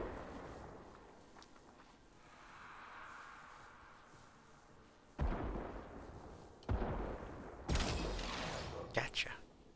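Gunshots in Warframe: a few loud, sharp reports in the second half, spaced irregularly, with one or two close together, following a quieter stretch of low ambient game noise and faint voice.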